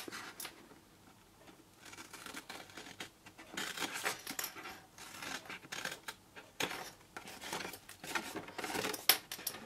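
Scissors snip through paper squares for a hand-stamped birthday calendar box, giving quiet, close bursts of crisp cuts and rustles in irregular clusters with brief pauses between them.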